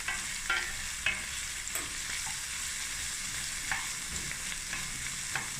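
Assorted bell peppers and mussels stir-fry in a hot pan with a constant close sizzle, broken by several sharp scraping stirs of the spatula.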